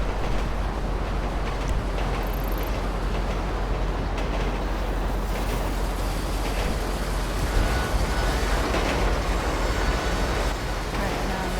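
A train in the video game GTA V rolls along its tracks near the docks with a steady, continuous rumble and rattle that holds at an even level throughout, with a voice faintly present.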